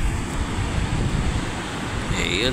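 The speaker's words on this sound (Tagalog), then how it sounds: "Ayan po ang dagat dito mga kagala, oh, dito sa San Jose, Talisay, Camarines Norte." Sea surf at San Jose, Talisay, Camarines Norte rumbles as a steady broad wash mixed with wind buffeting on the microphone, with a voice speaking briefly near the end.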